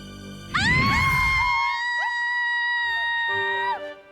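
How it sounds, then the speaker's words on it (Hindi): A woman's loud, piercing scream in a Hindi fantasy TV drama, held high and steady for about three seconds before cutting off abruptly. "क्यों चिल्ला रही हैं आप?"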